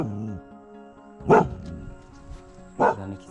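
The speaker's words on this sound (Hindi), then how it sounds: "पता नहीं किस चीज़ के लिए भौंक रहा है।" A dog in Kanol Village, a hill village in Uttarakhand, gives two short, loud barks about a second and a half apart, close by in an otherwise quiet setting.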